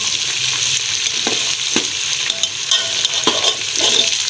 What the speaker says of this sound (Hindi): ये लहसुन अदरक का पेस्ट डाल दिया है मैंने, ठीक है। इसको बाद थोड़ी देर भूनना है।